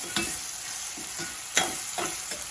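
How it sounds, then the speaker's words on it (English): Canned beans tipped into a small pot of chili, giving a wet, sloppy scraping and plopping with a few sharper spoon clinks near the pot, steady and close with no talking. "I'm adding in about 3/4 of the can. I feel like that's enough beans"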